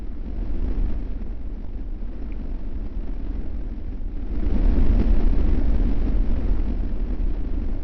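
Rocket engines fire at launch in a video game, a dense, continuous roar that swells louder about halfway through and holds steady with no voices.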